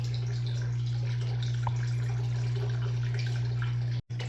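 Water runs steadily while gold is panned on the Wisconsin River, a continuous close wash over a strong low pump-like hum, with no talking.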